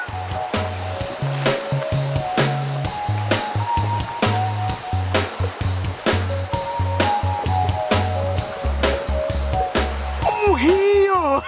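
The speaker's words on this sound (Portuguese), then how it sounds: "Eu ouço som de água." Steady rushing of falling water from a waterfall on a nature camping outing runs beneath a prominent musical soundtrack and a voice.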